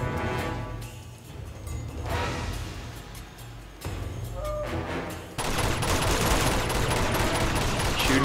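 Gunfire fills a firefight in Uncharted 2, rapid volleys of shots and bursts crackling at close range, growing denser and louder toward the end.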